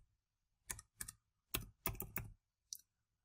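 A number is typed on a computer keyboard in a spreadsheet's scenario values dialog, six crisp, close keystrokes in an uneven rhythm, the last one slightly apart, with silence between.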